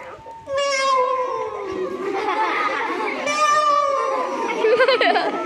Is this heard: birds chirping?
no